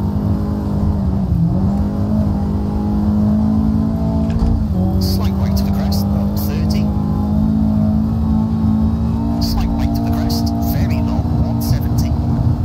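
Race car engine in a WRC rally video game, revving continuously with a constant droning roar and shifting pitch, while a person talks throughout.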